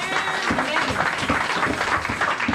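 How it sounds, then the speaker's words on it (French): Church congregation clapping in praise during a French-language service, a steady rhythmic patter of many hands with crowd noise and faint voices mixed in. "Acclame le Seigneur"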